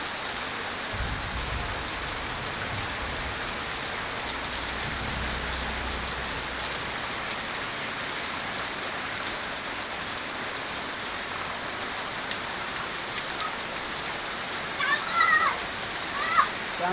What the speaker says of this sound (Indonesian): Masuk bulan November sudah sering sekali hujan.